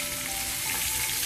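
Whiting fish frying in a pan, a loud continuous sizzle and crackle heard up close without speech.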